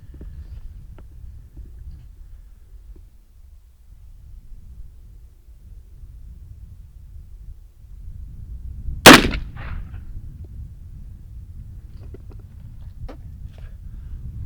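One loud, sharp report from an Uberti Remington 1858 New Model Army black powder revolver fired with a reduced powder charge, standing out against steady low outdoor rumble and a few faint clicks afterward.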